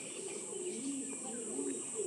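Several pigeons coo softly and continuously in a loft, low rolling calls overlapping with faint chirps, no talk.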